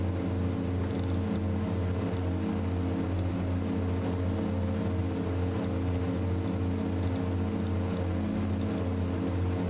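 Twin turboprop engines of an Aerosoft Twin Otter in a flight simulator, a steady droning hum with strong low harmonics that runs unbroken and loud throughout.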